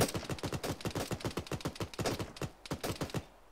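Rapid bursts of gunfire from an Arma 3 military firefight, a dense string of sharp cracks in quick irregular succession with brief pauses, close and loud.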